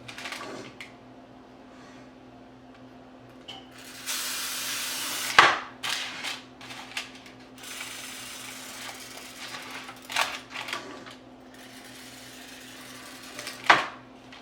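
A broadband hiss of cooking spray into a cake pan lasts about two seconds, followed by clanks of the pan being handled and a couple of sharp knocks, over a steady hum.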